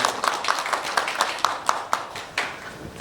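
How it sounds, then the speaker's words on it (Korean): Scattered hand clapping from a modest audience welcoming a county governor at a Korean residents' association event, a few distinct claps standing out over a thin, uneven round of applause. "뜨거운 박수 부탁드립니다"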